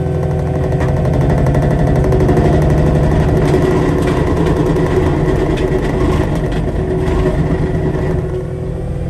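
A Caterpillar 259D compact track loader runs a Diamond rotary mower attachment, a loud steady engine-and-blade drone spinning up and holding at a dense, constant roar throughout, with no talk.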